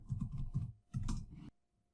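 Someone types a password on a computer keyboard, a quick run of close, dry key clicks in two short bursts before falling silent.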